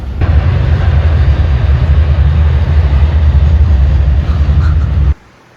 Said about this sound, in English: How can a tram be so loud?